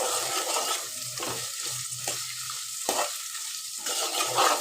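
Bitter gourd frying in a pan gives a steady, hissing sizzle, interrupted by rhythmic scraping as it is stirred again and again. There is no talking.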